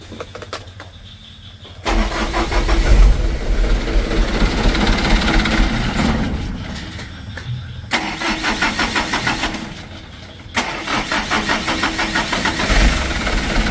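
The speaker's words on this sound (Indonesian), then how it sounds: "Coba kita tes lagi teman-teman ya, kita starter." A Mitsubishi Canter truck engine cranks long and hard before catching, with bursts of starter churning separated by short pauses, loud and close, with no talk.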